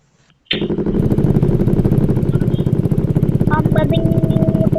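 A motorcycle engine in the Roblox video game starts abruptly and then runs on at a steady, pulsing drone, loud and close, with brief chatter over it.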